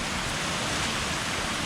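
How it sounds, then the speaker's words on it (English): Tiny hail and rain fall during a windstorm in a residential neighborhood, making a dense, steady hiss of pattering on surfaces with no gaps or individual hits standing out. "You hear the hail again?"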